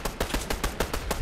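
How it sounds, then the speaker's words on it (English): Rapid, evenly spaced gunshots from a video game firefight, about eight sharp reports in quick succession at moderate volume, with no talking. "They're there, shooting at us."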